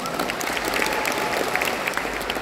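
Steady applause from a seminar audience at a national motivational event, dense continuous clapping filling the room with no break.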